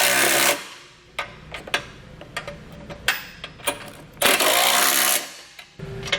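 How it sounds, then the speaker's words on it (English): A 15mm socket and wrench tighten bolts on a Roadmaster Direct-Connect base plate, giving sharp metallic clicks and ratcheting bursts in an irregular rhythm, close and fairly loud with short pauses between. "now we can go back and tighten them down using a 15mm socket and wrench"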